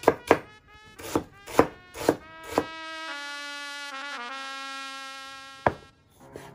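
Onions being chopped for Goan ox tripe: a run of sharp, close knife chops on a board, then a long sustained ringing hum with no chopping, and one last chop near the end.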